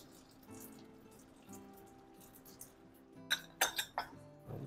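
Scallops dropped into a pot of shrimp bouillabaisse with cod and shrimp already in it, soft splashes and a cluster of sharp clinks near the end, close and fairly quiet, with no talk.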